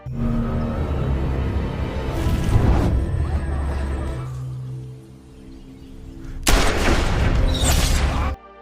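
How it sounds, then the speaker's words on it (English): Sniper rifle shots ring out in an action film, two loud sharp blasts a few seconds apart, each followed by a rumbling tail over a dense soundtrack. "The sniper fired"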